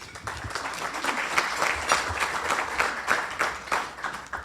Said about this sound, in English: Please give him a round of applause as he comes to the podium